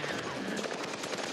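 Dense automatic gunfire in the shooter game Far Cry 3 rattles on continuously, loud and close, with a player's voice faintly mixed in.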